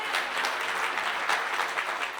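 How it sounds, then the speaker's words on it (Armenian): A church congregation claps together in sustained, dense applause that stays loud and steady throughout, with many hands blending into one wash of sound. "Տուր Աստծուն բարձր ծափատություն։"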